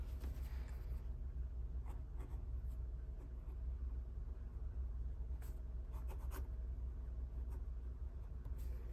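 Fountain pen scratching across toothy woven linen paper, a steady close-up writing texture with brief sharper strokes, alone over a low background rumble.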